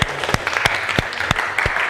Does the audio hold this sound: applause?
yes